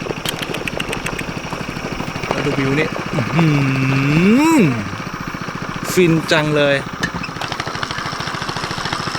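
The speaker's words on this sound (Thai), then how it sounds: "มาแล้ว โอ้ย รถไถนา" A farm tractor (rice-field plough) arrives at a highland Karen rice field, its engine chugging in a steady, rapid thump throughout while someone talks over it.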